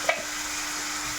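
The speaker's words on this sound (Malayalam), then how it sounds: "സബോള പെട്ടെന്ന് വഴന്ന് വെക്കണം." Onions frying in a pan with curry leaves and salt give off a steady, dense sizzle with a brief stirring scrape at the start, close and continuous.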